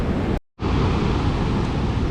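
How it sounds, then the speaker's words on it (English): Steady broadband roar of Nevada Falls on the John Muir Trail, a loud continuous wash of falling water heard alone, broken by a brief dropout near the start. "Oh, waterfall."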